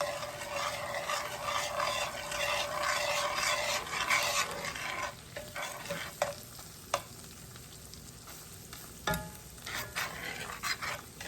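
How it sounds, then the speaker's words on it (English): Flour is stirred into hot fat for a roux in a pan, with a spoon scraping and sizzling steadily up close, then the stirring slows into sparse scrapes and clicks. "And I'm making a roux."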